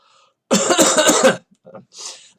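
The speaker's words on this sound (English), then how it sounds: "a bit of a cough" A single harsh cough burst lasting about a second, close and loud, followed by a few quieter throaty sounds and a breathy exhale.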